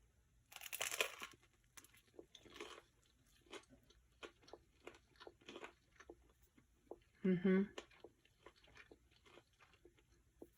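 Bread spread with dairy-free fake butter being eaten, with repeated close crunchy bites and chewing in an irregular rhythm and brief vocal sounds between them.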